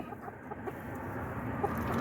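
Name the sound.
rooster clucking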